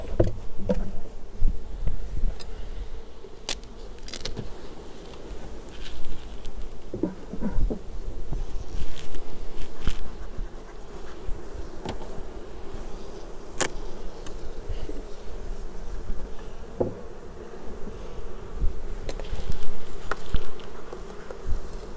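Honey bees buzz steadily around an open hive during a brood chamber inspection, a dense continuous hum close by with occasional knocks and clicks of handling.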